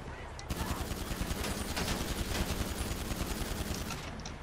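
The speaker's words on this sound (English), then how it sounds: "Drive by, shot you full of bullets." Sustained automatic gunfire in a video game after a brief quiet lead-in, a dense, loud, continuous stream of rapid shots that runs to the end and drowns out everything else.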